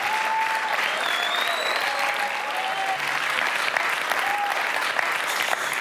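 A comedy-night audience in Pigalle applauds comedian Alex Ramirez with a loud, even wave of clapping, plus a few faint whistles over the crowd.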